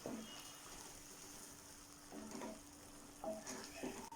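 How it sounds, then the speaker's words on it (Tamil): Potato pasandi curry being stirred in a pan after milk is poured in, a soft low simmering bubble with a few scraping stirs of a spoon against the pot, faint and close, with no talking. "இப்போ மறுபடியும் இன்னொரு கப் ஊத்தி நல்லா கிளற ஆரம்பிக்கலாம்"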